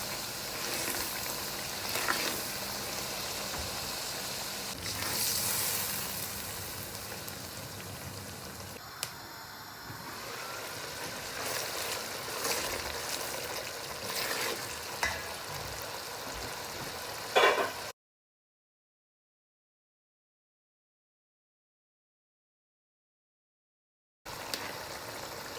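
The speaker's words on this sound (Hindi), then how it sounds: "अब अच्छी तरह इन सब चीज़ों को भून लें।" Spiced masala with yogurt frying in a pan for Pakistani dhaba-style mash and chana dal, giving a steady close sizzle with occasional pops and stirring scrapes, broken by a stretch of silence before the sizzle returns.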